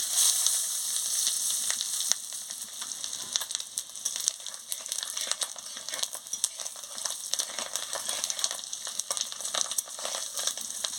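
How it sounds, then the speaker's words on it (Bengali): Dried red chilies and whole tempering spices sizzle and crackle in hot oil for a fish-roe tamarind curry, a bright continuous hiss with scattered pops and occasional stirring. "এবারে শুকনো লঙ্কা আর ফোড়নটা দিয়ে দিচ্ছি"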